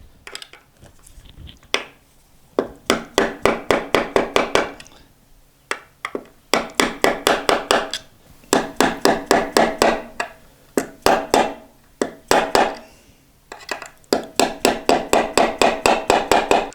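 A guitar tuner ferrule tapped into its hole on a P90 Flying V build with a hammer striking a 10mm socket, bursts of rapid sharp metallic taps in rhythmic runs separated by brief pauses, close and loud.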